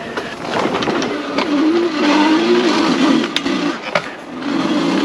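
A vehicle engine revs hard to push through a sandbar at Métabetchouan on Lac Saint-Jean, a loud, close, rising drone with rattling and knocking over rough ground and no speech.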